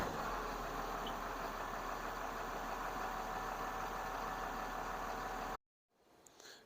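Massey Ferguson 7616 Dyna 6 tractor engine idling in a steady, even rumble for several seconds before cutting off abruptly, followed by faint background noise.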